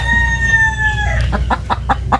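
A rooster's long crow trails off, followed by a run of several close, rhythmic clucks from chickens.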